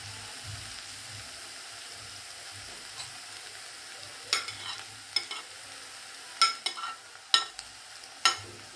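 Green chillies and garlic sauté for an okra curry with a low, steady sizzle, and in the second half sharp clinks and scrapes from stirring break through.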